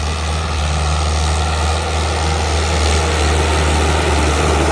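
Standard tractor engine working an old disc harrow in a field, a loud, steady low diesel drone with constant rumble and no pauses throughout.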